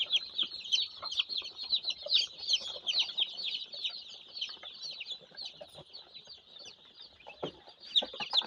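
Chicks peeping during sexing, dense high-pitched chirping from many birds close by, continuous and busy throughout.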